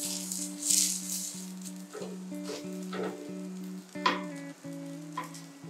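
Rava dosa batter fries on a hot pan with a soft, crackling sizzle, close and moderately quiet, under steady tonal background sound.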